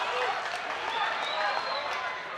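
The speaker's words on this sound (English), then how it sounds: "Franck gets up and hears some appreciation from the crowd." Crowd applause and murmuring at a Hard Knocks Fighting MMA event, a steady broad wash of clapping and crowd noise filling the arena throughout, moderately loud, with a commentator talking over it.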